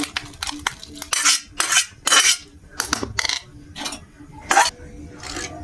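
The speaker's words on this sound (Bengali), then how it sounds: "বাটি নিয়ে নিয়েছি বাটিতে নামিয়ে নেব" Carrot halwa is scraped from a pan into a bowl, making a run of close metallic spoon-on-cookware clinks and scrapes in irregular bursts, with no talking.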